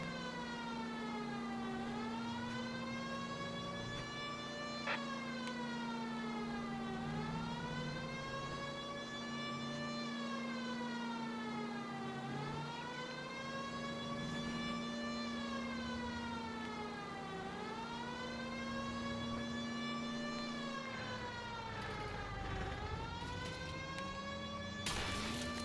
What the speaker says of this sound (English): I'm hearing sirens.